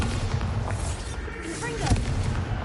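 A Bombarda explosion spell in the video game Hogwarts Legacy, heavy booming blasts and rumbling thuds filling the mix, with a sharp impact near the end.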